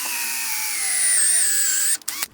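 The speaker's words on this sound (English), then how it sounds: "set our bit right in that hole we drilled at the drill press" A power drill drilling out wood whines at high speed for about two seconds, its pitch sagging slightly under load, then cuts off with a few short bursts.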